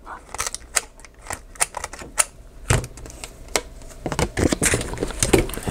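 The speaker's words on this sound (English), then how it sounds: "I'm going to go ahead and round this corner. I'm going to use the half inch rounder for these." A half inch corner rounder punches through the corner of a clear laminated cellophane pouch, giving a run of sharp clicks and snaps that grow denser toward the end, with voices faintly in the background.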